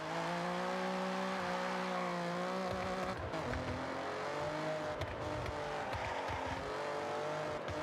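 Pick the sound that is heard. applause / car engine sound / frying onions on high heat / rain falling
car engine sound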